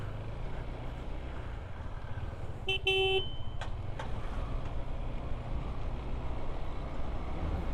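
Heavy road traffic in Kodaikanal heard from a motorbike: a constant rumble of engines and wind, with one clear car horn toot midway and a few sharp knocks after it.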